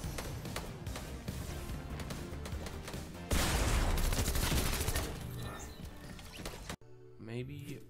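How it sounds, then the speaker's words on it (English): SMG gunfire in Fortnite Chapter 4 sounds as dense rapid bursts within a loud, busy game mix, with a sharp cut near the end and a voice talking over parts of it. "He's already shooting at me, and there's just machine SMGs everywhere."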